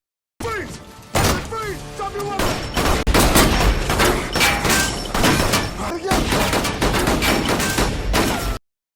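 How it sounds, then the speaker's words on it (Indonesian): Gunfire from a film gunfight during a heist story: repeated sharp shots and bursts with thuds and crashes, loud and dense for several seconds, with a narrator speaking over it. "Baku tembak pun terjadi."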